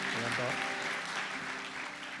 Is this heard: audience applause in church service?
yes